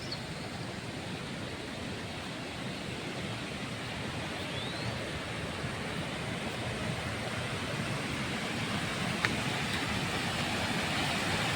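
A waterfall near Soneshwar temple on the Krishna river roars as a steady, dense wash of rushing water, loud and even throughout, with no voices.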